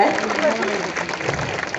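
An audience at a comic speech on education bursts into applause, steady crowd clapping that fills under two seconds and mingles with a voice speaking through it.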